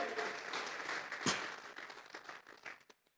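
Church congregation at a Sunday morning service giving an offering of applause to God, a full crowd clapping steadily with a sharp louder clap burst midway, then thinning into scattered claps and stopping abruptly.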